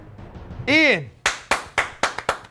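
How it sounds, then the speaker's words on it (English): A small group of people clap in a studio, giving several sharp, close claps in an uneven rhythm just after a brief vocal whoop. "I don't know why the hell we're clapping for Ian."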